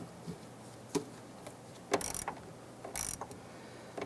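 A hose clamp being snugged down on a fuel pump hose of a 1999-2004 Jeep Grand Cherokee, with faint scattered ratcheting clicks and metallic ticks, close and quiet.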